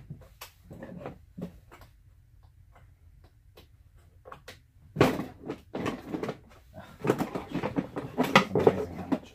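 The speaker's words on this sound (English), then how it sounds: "pull this drawer out here." A storage drawer under the water pump in an RV camper is pulled out, giving scattered clicks and knocks followed by louder rattling and clattering of contents as it slides open.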